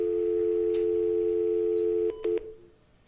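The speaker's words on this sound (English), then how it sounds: "we have a phone call." A telephone line rings in on a phone-in call to a broadcast: a steady electronic tone holds for about two seconds, then breaks into short pulses and fades.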